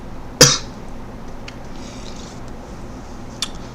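A single sharp cough close to the microphone, followed by a faint second cough near the end over quiet room noise.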